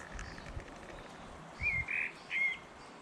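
Three short, bright chirps from two baby robins ring out close together over a soft outdoor hush.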